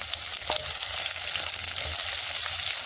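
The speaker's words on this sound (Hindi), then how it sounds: "कड़ाई बर्तमान में पियाज पकई देती पियाज टी भाजवा" Chopped onions fry in a kadai for an Odia home-style potato and bean stir-fry, giving a steady, close, hissing sizzle with faint stirring underneath throughout.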